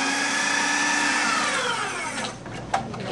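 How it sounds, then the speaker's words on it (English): A food processor whirs steadily as it chops and mixes a mock turkey loaf, a loud continuous motor drone that slows and winds down near the end, with a short clack as it stops. "You were asking a question about the use of a food processor."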